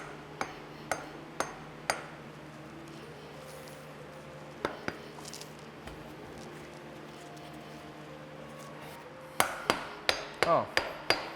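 A rusted camshaft is tapped with a hammer to work it loose from its dowel: a few sharp, evenly spaced metallic knocks, a pause, two more, then a quick cluster of close, loud blows near the end over a steady workshop hum.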